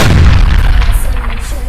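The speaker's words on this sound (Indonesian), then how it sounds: "maka satu ruas bambu pun tiba-tiba meledak" In a stage drama, a bamboo segment suddenly bursts as an explosion effect: one loud, heavy booming blast followed by a rumbling decay.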